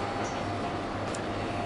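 A steady, muted rumble and hum fills a train carriage during the half-hour rail journey from Lisbon to Cascais, with faint rattles over it.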